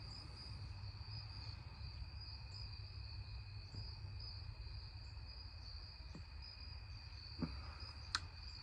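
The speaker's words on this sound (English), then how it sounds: "outside with the sounds of the crickets and such behind me" Crickets chirp steadily outdoors on a Sunday evening, a continuous high insect trill running through the whole stretch with a low background rumble and a couple of faint clicks near the end.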